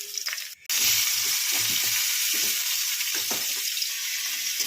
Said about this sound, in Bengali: দেখো মাছটা ভাজা বসিয়ে দিয়েছি